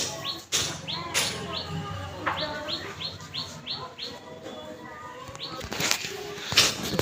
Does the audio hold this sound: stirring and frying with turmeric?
no